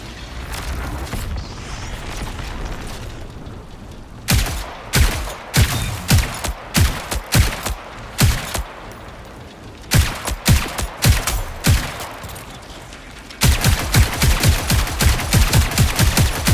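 Repeated bursts of automatic video game gunfire in Marathon, loud and close, come in quick rhythmic volleys separated by brief pauses, with a sustained stream of shots at the end.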